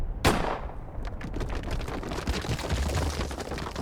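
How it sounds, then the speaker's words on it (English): A single sharp, loud gunshot aimed at a narrow rock in a video game cracks out near the start, then a dense rolling rumble follows and fills the rest of the clip. "Let's shoot the narrow rock. Let's make this shot count."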